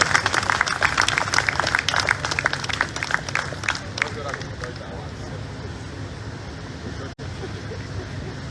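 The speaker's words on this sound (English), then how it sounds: "Please a round of applause for you." At a Nigeria Medical Association national executive council meeting, the audience claps in a burst of crisp, scattered hand claps that taper off after a few seconds, leaving murmuring room noise and a voice.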